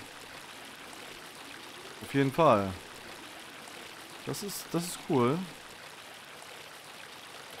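A river flows steadily in Ultimate Fishing Simulator, a soft continuous rushing and trickling of water running under two short stretches of someone speaking.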